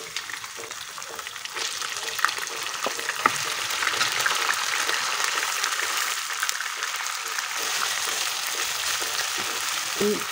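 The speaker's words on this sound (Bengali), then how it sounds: "মাংসটা এখন তেলের উপর কিছুক্ষণ ভাজবো" Mutton pieces frying in hot oil for Kashmiri rogan josh, with a steady, dense sizzle running throughout, close and fairly loud, broken by a few sharp spatters and crackles.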